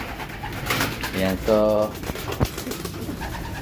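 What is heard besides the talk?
racing pigeons cooing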